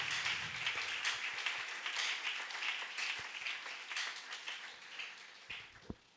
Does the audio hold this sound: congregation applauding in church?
yes